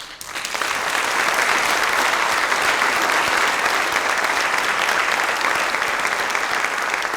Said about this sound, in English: There's a threefold ovation that I intend for us to give.